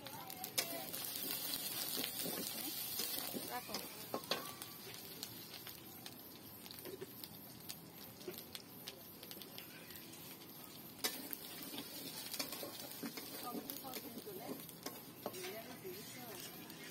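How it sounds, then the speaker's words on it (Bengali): Whole spices and masala being sautéed in a pan, a steady close sizzle with repeated scraping and stirring strokes throughout, a few sharper clinks of utensil on metal, and faint talk in the background. "তো সব কিছু দিয়ে ভালোভাবে মশলাটা কষিয়ে নিব।"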